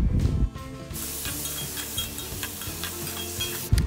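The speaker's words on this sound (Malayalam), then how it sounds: "ഇനി ഇതിലേക്ക് ആവശ്യത്തിന് ഉപ്പും കൂടെ തക്കാളിയും ചേർത്ത് നല്ലതുപോലെ വഴറ്റുക" Tomatoes with salt and ginger garlic paste sauté in a hot pan, a steady close sizzle with occasional stirring scrapes and a brief louder burst near the end, no talking.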